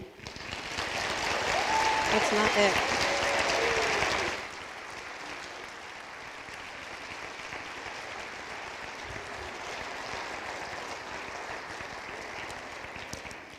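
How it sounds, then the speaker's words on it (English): An audience at a high school National Honor Society induction ceremony applauding new members, loud clapping for about four seconds that drops abruptly to quieter room noise with a brief spoken remark. "Please join me once again in applauding all the new members of this Honor Society."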